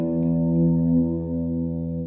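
Sustained bass guitar power chord through an amp simulator with flanger, delay and reverb, a thick, buzzing distorted tone with slow sweeping shimmer, ringing steadily for about two seconds with no talk.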